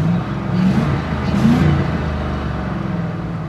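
A Ford Crown Victoria's engine revving as the car pulls away for a quick drive, a loud, close, steady rumble that swells and eases once, with no talk.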